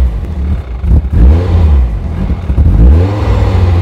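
Caterham Seven sports car with a modern racing engine revving close by, two or three loud throttle blips that rise and fall, heard alone without talk.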